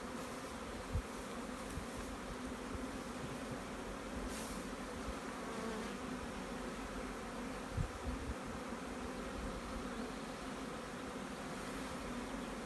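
Honey bees buzz around an open hive, a dense continuous drone filling the whole stretch with occasional faint knocks.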